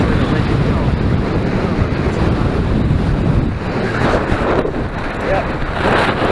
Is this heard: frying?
no